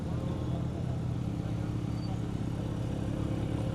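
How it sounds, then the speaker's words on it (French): A Ferrari SF90 Stradale arrives with a steady engine drone that holds at a constant level throughout, somewhat close by. "Ferrari SF90 qui vient juste d'arriver derrière"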